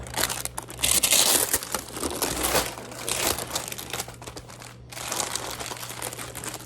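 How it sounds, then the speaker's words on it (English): Parchment paper crinkles and crackles as it is peeled off a baked pumpkin spice roll, with close, bursty rustling and crumpling that pauses briefly before resuming. "Taking the parchment paper."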